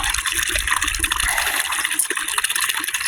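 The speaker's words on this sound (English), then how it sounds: "here we have water runoff from the road" Road runoff water rushes through a yard on rural land near a creek, a steady, close gushing flow with a bubbling, splashing texture and no talking.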